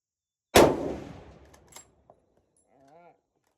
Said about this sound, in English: so there is a shot from the sitting position